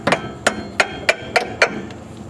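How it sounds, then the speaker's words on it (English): A hammer beats down on the rear brake bracket of a Hyundai during rear rotor replacement. Six sharp metallic blows land in a steady, slightly uneven rhythm, close and alone. "Now I got to take my hammer"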